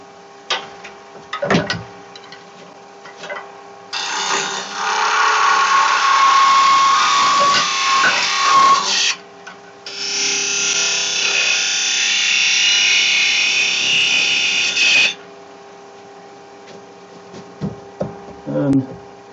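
A wooden egg being sized on a wood lathe, the cutting tool biting in two sustained, loud passes of scraping, whirring cut, separated by a brief pause and bracketed by light knocks and handling.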